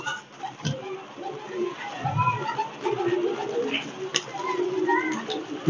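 A male Kaldom pigeon coos softly in short, intermittent murmurs close by, with faint background movement and other bird sounds.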